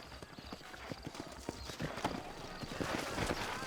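Horse hooves clip-clop steadily in Red Dead Redemption, the video game, with several horses' footfalls in a quiet, even rhythm and a faint whinny, under soft background game ambience.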